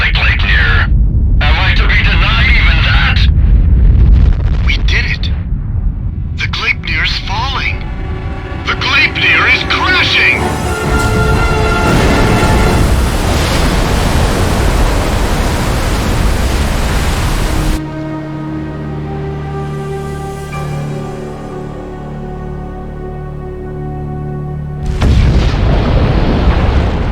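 Heavy rumbling blasts and crackling debris as the Gleipnir flying fortress is destroyed in Ace Combat X, loud and sustained over music and radio-style chatter, easing into a quieter stretch before a final surge.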